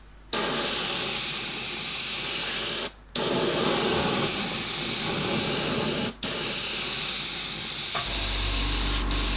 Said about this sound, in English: Okay, so I'm just going to mist the top, and I'm going to come down about 4 inches.